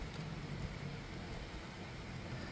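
Steady rain pours down as a dense, continuous hiss and patter, loud and close, with no voices.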